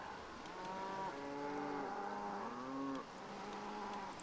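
Cows in the Crusader Kings 3 video game moo in long, drawn-out calls, several overlapping lows one after another over a soft steady background, fairly quiet overall.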